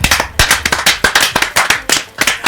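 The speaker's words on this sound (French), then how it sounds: "Est-ce qu'on peut applaudir Ashten s'il vous plaît?" A small audience claps to welcome the artist Ashten on a music promo show, loud, close, uneven hand claps in a quick irregular stream.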